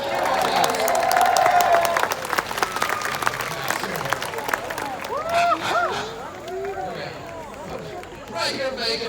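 Audience at an outdoor Renaissance bird show breaks into sustained applause and cheering, loudest at first then thinning to scattered claps, with a falconer's voice and crowd chatter over it.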